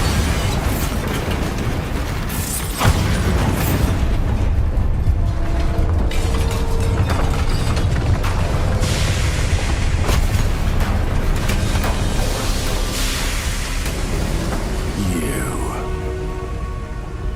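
A Bombarda spell goes off in Hogwarts Legacy with a booming blast. Dense rumbling game noise, clattering mechanisms and effects surround it, staying loud and continuous with no letup.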